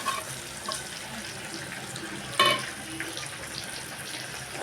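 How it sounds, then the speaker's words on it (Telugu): Water is poured into a cooking pot with vegetable pieces, a faint steady trickle and splash with one brief clatter midway, heard without any talk. "దీంట్లో కొంచెం నీళ్ళు పోసేసుకోవాలి."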